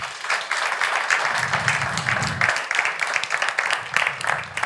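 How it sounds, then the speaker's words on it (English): An audience at a livestreamed event gives a steady round of applause, dense and sustained, with a voice briefly audible underneath. "we will give Anders a big applaud right now"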